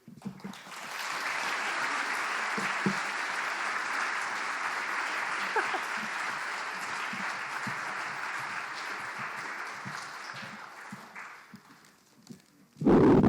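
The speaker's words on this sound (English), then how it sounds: "Can we just get another round of applause for all the artists?" An audience applauds senior art students at a school art colloquium. The clapping is sustained and dense across the room at moderate volume, tapers near the end and then cuts to a louder burst.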